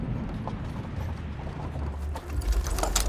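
Hooves of a four-horse wagon clip-clop at night beside creaking, rattling wagon mechanisms, a steady rhythmic clatter that grows louder near the end.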